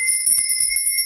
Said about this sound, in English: I have not rang my lady bell